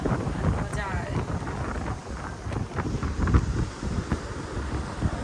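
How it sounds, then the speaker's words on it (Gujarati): Gusty wind blows across an open outdoor spot where a group sits eating on a day trip, a steady low buffeting roar that rises and dips in strength throughout. "પવન આવે હે"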